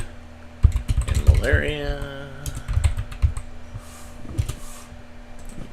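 Typing on a computer keyboard, a run of close, quick key clicks in bursts, with someone speaking over part of it and a faint electronic hum underneath.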